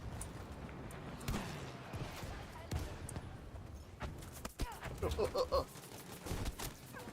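Suppressed gunfire in the Battlefield V video game, muffled shots and sharp bursts mixed with other in-game effects, with a player talking over the action.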